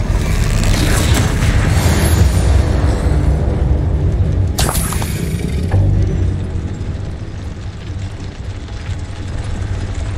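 Spell explosions and combat effects in the Hogwarts Legacy video game, including the Confringo blasting spell: a loud, continuous rumbling roar with a sharp burst midway, dense and booming throughout.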